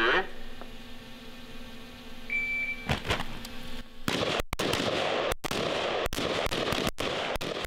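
Gunfire from a military close-quarters combat shooting drill, a burst of sharp, loud rifle shots in quick irregular succession after a short stretch of quieter background noise.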